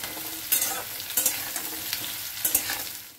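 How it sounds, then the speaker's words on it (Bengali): Drumstick stalks fry in a pan with cooked onions for a mustard dish, a close steady sizzle punctuated by a few sharp spatula scrapes as they are stirred. "এবারে ডাঁটাগুলো দিয়ে আবার নাড়াচাড়া করব।"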